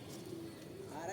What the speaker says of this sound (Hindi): यहाँ क्या निकल रहा है, पंछी वगैरह निकल रहा है